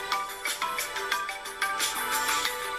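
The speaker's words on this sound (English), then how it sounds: "it's going to ring your phone so you can find it" A phone rings after being triggered by a MiPow Powertube 3000 smart USB power bank, playing a bright, steady electronic tune with pulsing repeated notes, fairly loud and with no talk.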